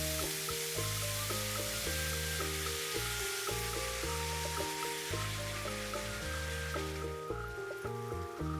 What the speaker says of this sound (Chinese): 先把鸡皮那面放进去，用中火来煎它